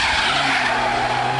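Front-wheel-drive car skidding hard through a 90-degree turn, a loud continuous tyre squeal and scrub with engine drone beneath, held steady and close for the whole stretch.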